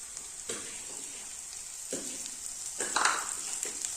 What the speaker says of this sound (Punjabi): ਆਪਾਂ ਇਹਨੂੰ ਫਰਾਈ ਕਰਾਂਗੇ ਪਿਆਜ਼ ਨੂੰ ਭੁੰਨਾਂਗੇ